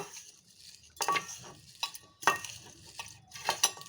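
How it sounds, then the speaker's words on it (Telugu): Onion pieces mixed with salt and chili powder for an omelette, a few intermittent spoon scrapes and clinks against a bowl, soft and close. "ఈ విధంగా మొత్తం ఉప్పు కారం ఉల్లిపాయ ముక్కలకి పట్టే విధంగా కలుపుకోవాలి"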